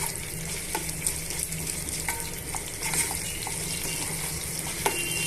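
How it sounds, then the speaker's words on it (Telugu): Tempering spices with urad dal frying in oil with a steady sizzle, punctuated by scattered clicks and scrapes of stirring, plus a low hum underneath. "ఈ పోపునంతా కూడా బాగా వేయించేసుకుంటాము"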